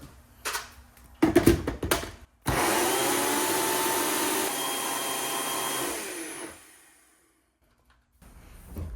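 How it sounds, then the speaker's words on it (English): A NutriBullet blender whirs through cilantro and green onion: a few short pulses, then one sustained loud buzzing run of about three seconds before it cuts out, up close in a kitchen. "I'm gonna just blend it up in my NutriBullet."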